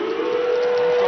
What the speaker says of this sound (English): Half-time siren now sounding.